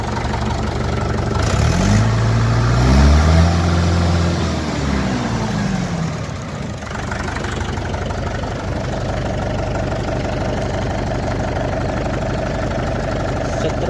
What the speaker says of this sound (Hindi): देखो दोस्तों आवाज़ ट्रैक्टर